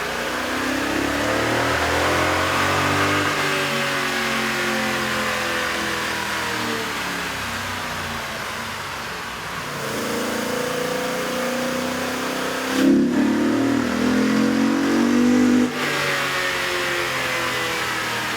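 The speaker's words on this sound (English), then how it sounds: "With the air intake installed, we ran the vehicle on the dyno to test the sound comparison versus the stock intake." A 2012 Toyota Tundra with a 5.7L engine and aftermarket air intake revs on a dyno, its loud steady drone rising and falling through repeated pulls with a brief sharper burst near the end.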